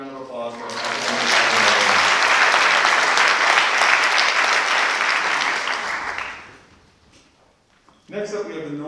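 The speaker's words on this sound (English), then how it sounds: "Another round of applause for our academic." Audience applause fills a school honors convocation hall, a broad steady wash of clapping that swells and holds for about six seconds before fading out, with a speaker's voice returning at the end.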